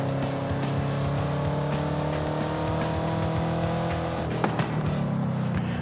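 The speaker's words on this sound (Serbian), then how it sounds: "Ali zvuk je mnogo lep na ovom autu, slušajte ovo." A Chevrolet Camaro ZL1 engine in Forza Horizon 5 roars steadily and loud for several seconds, a dense continuous drone that cuts off abruptly near the end, followed by a brief thump and lower engine noise.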